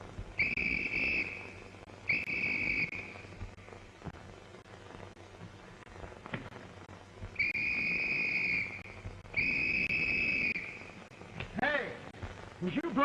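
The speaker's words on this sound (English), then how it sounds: "was you blowing a whistle?" A shrill whistle blows in four steady blasts, paired in two sets, over quiet night ambience with faint voices.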